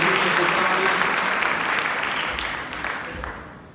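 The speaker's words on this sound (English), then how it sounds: "Give our Bulls another round of applause." A crowd at an annual Beautillion ceremony gives a round of applause, dense clapping that starts full and gradually fades over a few seconds, with faint voices mixed in.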